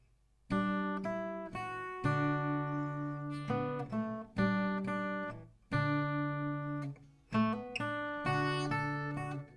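An acoustic guitar plays the melody of a song as a run of clear, plucked single notes and short ringing phrases, close up with no voices.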